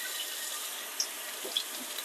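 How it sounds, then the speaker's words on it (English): Blueberries rinsed by hand under a running kitchen tap, a steady, fairly soft hiss of flowing water with a couple of small splashy accents. "now we're going to wash our cup of blueberries."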